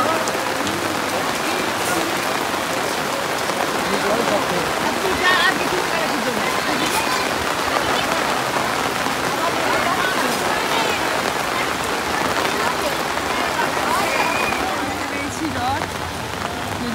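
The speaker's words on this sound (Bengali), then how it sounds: "যদিও বৃষ্টি এখনো কমেনি।" Heavy rain pours during a rainy-season chariot fair, a dense, steady roar of drops hitting surfaces close by, continuous throughout with faint voices mixed in the background.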